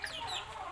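Two-month-old chickens cluck in a quick, faint burst of chirpy calls, heard briefly from a little distance.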